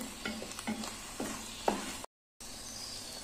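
Bottle gourd halwa being stirred in ghee in a pan, with soft scraping strokes and a faint sizzle, a few louder stirs, then a brief silent gap before the low frying hiss resumes.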